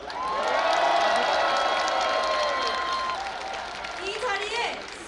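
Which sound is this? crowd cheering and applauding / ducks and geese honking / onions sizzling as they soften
crowd cheering and applauding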